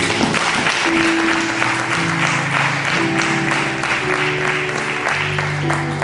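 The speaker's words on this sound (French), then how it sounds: "On acclame très fort pour les Seigneurs" A church conference crowd in Metz applauds vigorously for the Lord, a dense, sustained wash of clapping with some cheering and a steady held tone running underneath throughout.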